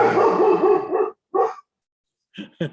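A dog barks several times nearby at a workshop presentation: one long, rough run of barking, a short bark after a pause, then two sharp yips, with no voices.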